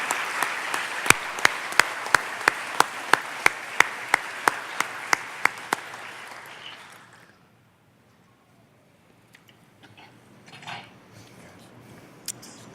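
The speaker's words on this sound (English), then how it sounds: "A great round of applause for Carissa and all of the month winners." An audience at a 2018 sheriff's office awards ceremony gives a round of applause. Sharp, rhythmic claps sound for about six seconds before fading into quiet room noise with faint stray sounds.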